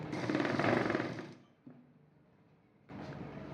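A sewing machine runs on a blouse hem, a dense mechanical whir that stops partway, leaves a quiet gap with a small click, then starts stitching again near and steady.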